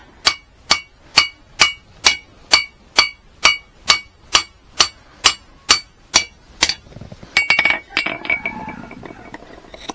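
Steady, evenly spaced metallic clangs of a hammer striking a knife blade on an anvil to thin its edge, about fifteen ringing blows, then a quicker flurry of lighter taps.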